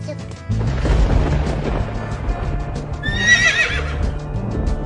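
A horse whinnies loudly in a high, shaky burst over low rumbling and hoof-like thuds.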